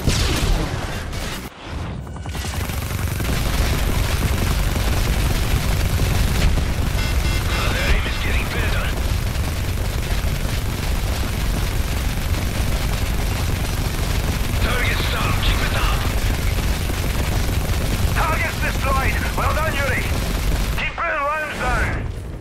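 Sustained aerial strafing gunfire from Call of Duty roars loudly and continuously, with dense automatic bursts and rumbling impacts, broken by brief bright metallic flurries and short gaps near the start and end.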